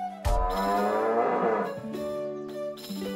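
A loud, drawn-out cow moo from South Park: The Stick of Truth swells and wavers for over a second, then trails into steadier tonal game music with brief bursts, no voices present.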